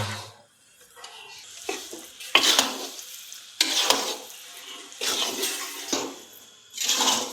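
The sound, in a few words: stirring and frying in ghee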